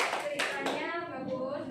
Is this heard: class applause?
yes